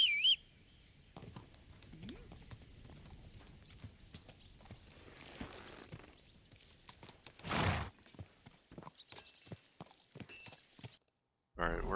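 A whistle calls a horse in Kingdom Come: Deliverance 2, followed by the clip-clop of hooves approaching, moderately loud, a brief neigh-like burst, then a run of distinct hoofbeats, with quiet speech in the background.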